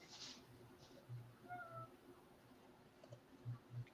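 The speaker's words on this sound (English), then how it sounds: "Did the cat meow?" A cat meows softly a few times indoors, faint against a low steady hum and a few soft bumps.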